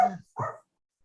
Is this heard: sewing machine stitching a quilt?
no